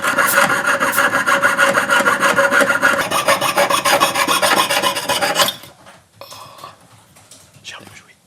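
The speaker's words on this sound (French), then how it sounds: "Ça change que tu scies pas en diagonale et du coup tu scies droit" Steady rasping of a saw blade cutting through a silver Tarkov-style dogtag, dense and continuous for about five seconds, then stopping, followed by a few faint scrapes and small handling noises.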